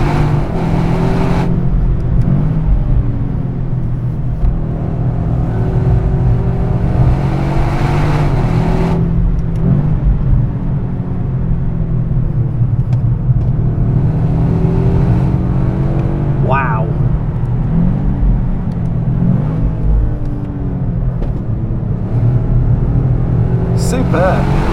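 A Toyota GR Yaris with an automatic gearbox drives at full throttle on the Nürburgring Nordschleife. Its engine drone holds steady and loud inside the cabin for the whole stretch, with someone talking over it.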